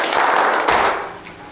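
Audience in a psychology session claps together on cue, a loud, slightly ragged burst that trails off over a second and a half.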